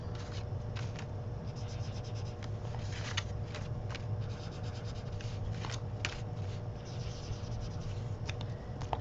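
Pen strokes scratching steadily across paper while yellow is colored in for an art zine, a continuous close rubbing texture with short repeated scribbles.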